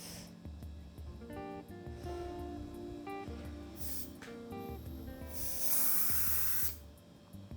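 A Colani spray gun fitted with a thick needle sprays in a steady broad hiss that swells near the end, layered over a low rhythmic hum with brief tonal beeps, without talk.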